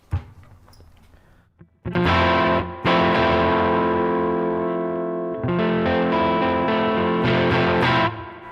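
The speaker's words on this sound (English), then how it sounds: "the denser sound, the beefier, thicker tone of the neck pickup is pushing that gain a little bit harder" An electric guitar on its neck pickup plays through a Line 6 HX Stomp amp model with distorted gain, sustained thick chords ringing out after a quiet lead-in, loud and dense, with one restrike midway.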